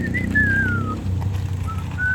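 Someone whistles a short, wavering tune in a few clear phrases, gliding up and down, close by over a low rumbling outdoor background.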